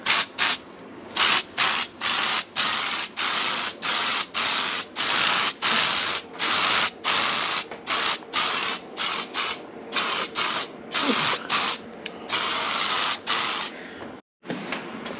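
A spray paint can lays a coat on the grill of a G35 Coupe in a long run of loud, close hissing bursts broken by brief pauses, with no talk.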